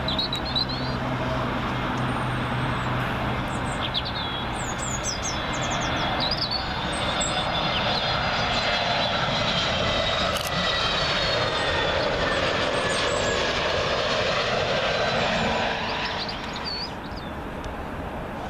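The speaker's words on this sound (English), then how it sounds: "we say top of the morning to Aer Lingus A320neo in from Dublin" An Aer Lingus Airbus A320neo arrives at Heathrow from Dublin, its engine whine and rumble building and fading as it passes fairly close, with a faint bird call in the background.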